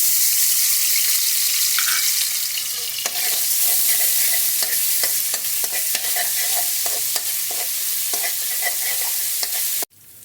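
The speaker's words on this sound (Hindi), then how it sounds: "हम अदरक लहसुन के पेस्ट को फ्राई कर लेंगे" Ginger garlic paste fries in oil in a wok for salted beef gosht, giving a loud, steady sizzle broken by repeated stirring scrapes and clicks, then cutting off abruptly at the end.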